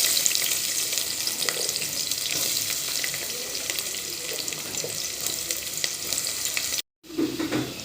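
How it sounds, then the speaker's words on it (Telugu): Onions sizzling steadily in hot oil in a pan while cooking okra stew, a continuous close frying hiss with a brief gap near the end, no talking. "ఇప్పుడు ఏం చేయాలంటే ఉల్లిగడ్డ వేయించుకోవాలి"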